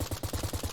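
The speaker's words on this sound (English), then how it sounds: "So we can manage to shoot a lamppost." Rapid automatic gunfire in the video game 10 Miles to Safety, aimed at a lamppost: a fast, even string of loud, punchy shots with no pauses, close and dense.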